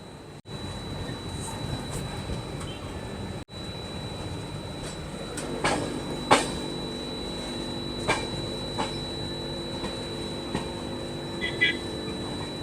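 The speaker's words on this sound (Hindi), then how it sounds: "एकदम निर्धारित समय से अपनी कन्याकुमारी एक्सप्रेस निकल चुकी है कन्याकुमारी रेलवे स्टेशन से।" Kanyakumari Express pulling out of Kanyakumari railway station, with a steady low rumble of rolling carriages, occasional sharp metallic clanks and knocks from the wheels, and a faint high whistle-like tone throughout.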